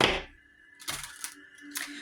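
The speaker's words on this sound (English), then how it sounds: "I'm going to shuffle." Two quick riffling bursts of cards being shuffled, close and crisp, separated by short pauses, with faint background music.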